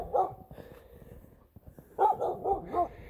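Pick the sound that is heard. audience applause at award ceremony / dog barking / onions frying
dog barking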